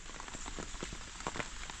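Rain falls steadily on a farm in Solapur, a dense close patter of drops on surfaces with no pause over the short stretch.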